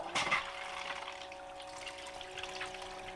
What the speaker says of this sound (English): So let's fire up this sluice.